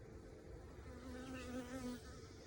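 Honey bees buzz around a nuc as it is installed into a new Flow Hive, a faint, steady insect drone with a clearer humming tone as one bee passes close in the middle.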